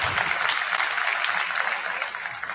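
Steady audience applause at a Lady Foxes senior night, a dense wash of clapping from a crowd that holds evenly throughout without a break.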